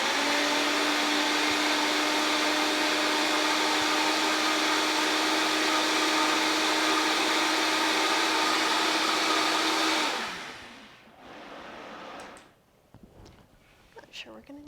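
Blender pureeing black beans: a loud, steady high-pitched motor whir running about ten seconds before spinning down abruptly, followed by a few clunks and handling sounds.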